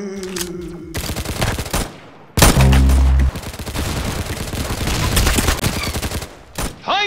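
Rapid gunfire from the Roblox game Arsenal, loud and close, with dense bursts of automatic shots, a heavy boom partway through, and more sustained shooting to the end.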